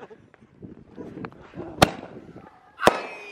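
New Year fireworks go off outdoors on a cold night, with two sharp loud bangs standing out over crackling and a murmur of people talking.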